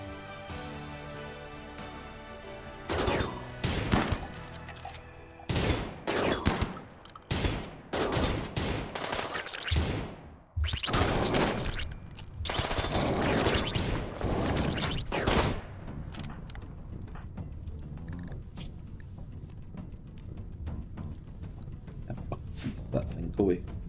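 Video game gunfire crackles in repeated bursts and volleys over about twenty seconds, loud and dense, with a steady background din and intermittent voices mixed in.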